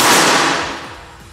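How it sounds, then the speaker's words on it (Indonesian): A single sharp air rifle shot, loud and close, followed by a quickly fading ring. "Tembakan yang pertama."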